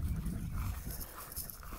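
Two boxer dogs pant in a small outdoor yard, a steady, close breathy rhythm with faint whimpering, continuous throughout with no talking.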